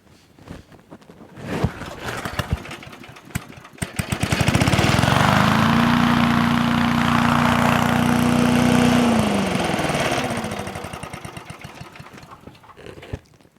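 An MTD air sweeper ground leaf blower with a 5.5 HP Briggs engine is pulled to life after a few sputters, roars steadily and close for several seconds, then winds down toward the end.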